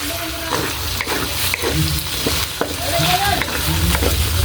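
Pork picadillo sizzles in a pan as it is stirred, with clanks and scrapes of the spoon over a steady frying hiss, close and clear.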